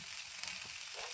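Onion, chili and garlic sizzle as they fry in a small amount of oil in a pan, a steady, faint crackling hiss with no voices.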